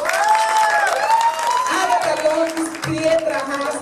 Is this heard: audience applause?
yes